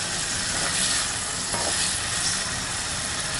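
Half a kilo of tomatoes fries in a pan, giving a steady, loud, close sizzle with a dense crackling hiss that holds throughout, with no talk.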